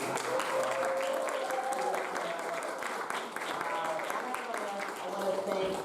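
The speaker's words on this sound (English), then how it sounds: "Can we just give them a big round of applause?" Applause from a church congregation at a Sunday spiritual service, steady and sustained throughout with voices and tonal sounds mixed beneath it.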